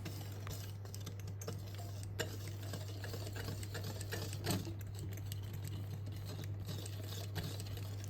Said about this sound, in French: Mélangez à l'aide d'un fouet manuel.